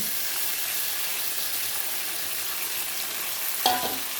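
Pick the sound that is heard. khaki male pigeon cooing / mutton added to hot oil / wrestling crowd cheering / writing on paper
mutton added to hot oil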